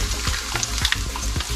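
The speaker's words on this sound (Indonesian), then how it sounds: "Saya menggoreng." Emping crackers fry in hot oil, a dense close sizzle and crackle with a few soft stirring knocks, no voices.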